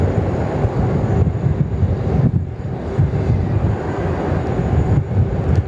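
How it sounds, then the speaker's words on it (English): A China Eastern airliner taxis at Sydney Airport with a steady low engine rumble and roar, heard at a distance through wind noise. "China Eastern there, just starting to taxi now, just out the Intel 1 apron onto taxiway Alpha."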